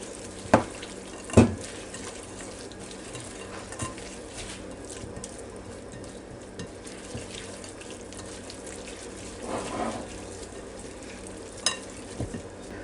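A spoon stirs raisins into a carrot pineapple salad in a bowl, a soft continuous wet mixing rustle close by, broken by a few sharper clinks and scrapes near the start and end.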